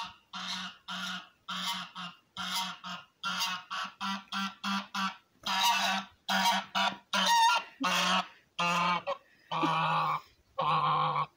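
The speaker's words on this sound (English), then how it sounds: "Goose. Goose, goose." A goose honks repeatedly in a garden, giving loud, close calls in short bursts with brief pauses between them.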